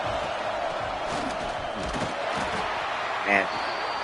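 Loud, rowdy stadium crowd from the NCAA 26 college football game, a dense continuous roar with swelling cheers and a brief sharp cry near the end.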